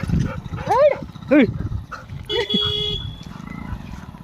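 A dog barks sharply a few times nearby on a village walk to a temple, with rising yelps mixed into excited human voices and a brief high tone.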